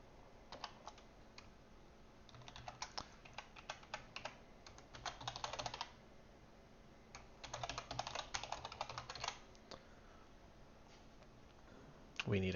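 Code is typed on a computer keyboard in quick bursts of close, crisp key clicks separated by pauses.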